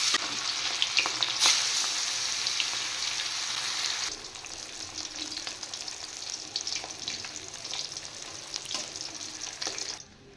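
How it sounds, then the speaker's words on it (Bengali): Steady hissing sizzle of pomfret frying in hot oil, loud at first then settling into a softer crackle, with no voices. "আমি প্রথমে মাছগুলো ভেজে নেব। তেল গরম হয়ে গেছে।"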